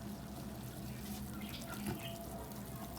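Water streams steadily into gram flour batter for besan khandvi being made in a home kitchen, a continuous trickling pour with no voices over it.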